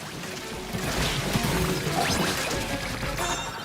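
Splatoon 3 game audio with a big shot cannon blasting an egg, a loud continuous wash of splashing, crashing impacts and liquid ink noise with no voices.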